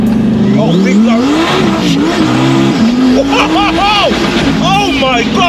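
A twin-turbo Lamborghini Huracan Performante accelerates hard, its engine note rising and sweeping up through the revs with loud, rough exhaust and a blow-off burst, while excited voices shout over it.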